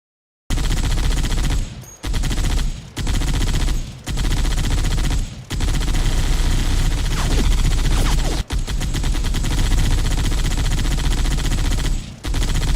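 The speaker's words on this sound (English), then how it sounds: "That was gunfire." Loud bursts of automatic gunfire from the video game Halo Reach, machinima-style, come in several dense volleys separated by brief pauses, then a long sustained stretch of rapid shots.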